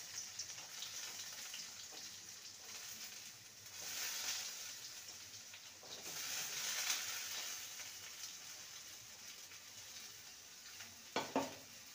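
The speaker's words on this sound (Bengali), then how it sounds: "সবজিটাকে ভালো মতন ভেজে নেব।" Potatoes and carrots fry in oil in a pan with a bay leaf, a continuous close sizzle that swells and eases, with a few sharp utensil knocks near the end.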